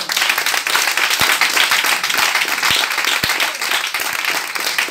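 A church congregation applauding and cheering in praise of God, a dense, loud, sustained wash of many hands clapping with a few sharper individual claps standing out and some voices mixed in.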